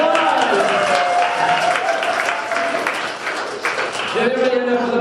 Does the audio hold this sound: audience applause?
yes